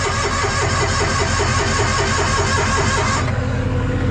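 An old car's engine cranks repeatedly with throttle and choke applied, a steady rhythmic starter churn for about three seconds before it cuts off without catching.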